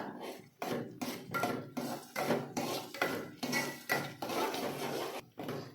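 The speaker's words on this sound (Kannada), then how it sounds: "ಇದನ್ನು ಇನ್ನೊಂದು ಸ್ವಲ್ಪ ಫ್ರೈ ಮಾಡ್ತೀನಿ ಎಣ್ಣೆ ಒಳಗೆ" Metal utensil scraping and clattering in a pan in repeated stirring strokes as tamarind fries in oil for Udupi-style sambar, close and fairly loud, with no voices.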